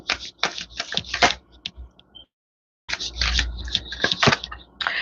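Tarot cards are shuffled by hand in quick, close riffling bursts, then a brief pause, then another run of papery flutters and taps.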